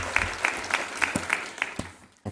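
A small crowd applauds a band at a graduation in Falkirk Town Hall with steady, rhythmic clapping that thins out and fades near the end.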